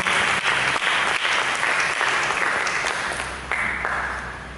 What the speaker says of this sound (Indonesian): Mari kita berikan tepuk tangan bagi Yesus saja.